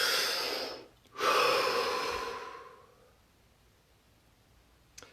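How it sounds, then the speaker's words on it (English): A deep breath, a long close inhale, a short pause, then a slow exhale that fades out into near silence. "Take a deep breath."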